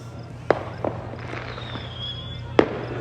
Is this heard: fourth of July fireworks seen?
yes